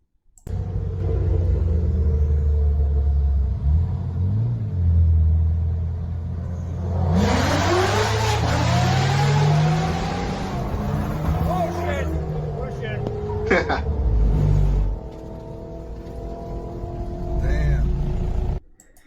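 A Corvette circles a pack of wild Mustangs, its engine rumbling low, then revving and whining up in sharp rising sweeps before easing back, while a voice talks over part of it.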